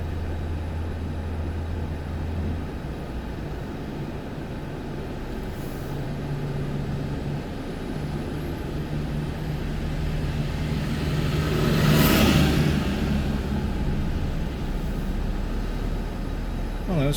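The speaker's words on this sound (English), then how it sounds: "oh, those cars going downtown." Cars on a road heading downtown on a very hot day, a continuous broadband traffic rumble with one vehicle swelling louder as it passes close around the middle, then fading back into the steady wash.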